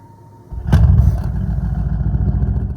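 A Bentley coupe engine in sport mode fires up with a sharp blip, then settles into a loud, throaty, burbling idle that rumbles steadily and close by.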